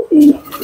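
A racing pigeon gives one clear, close coo, a smooth sustained call lasting about a quarter second, followed by quieter rustling.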